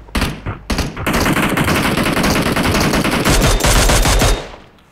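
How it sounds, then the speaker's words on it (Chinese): Rapid automatic gunfire from a four-player squad battle royale shooter game: dense, loud bursts that crackle almost continuously for several seconds before cutting off. "有枪声"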